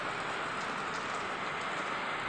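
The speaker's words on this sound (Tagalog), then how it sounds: "Kaya nakikita nyo, umuulan, no? Umuulan." Rain falls outdoors in a subdivision as a dense, even hiss that holds steady throughout, with no voices.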